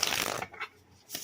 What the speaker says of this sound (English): we're gonna shuffle 2 decks, 2 readers